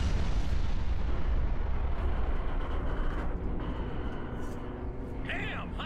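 Artillery fire in the video game Halo Reach, a dense continuous roar of booming explosions and rumble that stays loud throughout and eases slightly toward the end, with faint game sounds above.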